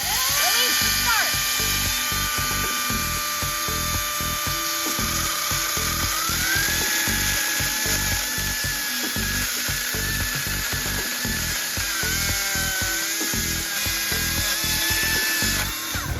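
A chainsaw runs steadily while felling a tree with a notch cut, its engine giving a constant high whine with rapid pulsing, and the pitch steps up partway through.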